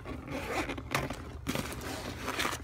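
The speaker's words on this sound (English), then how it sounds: "Let me get this thing unzipped." A fishing tackle bag being unzipped close by, a few raspy zipper pulls in quick bursts with scraping fabric between them.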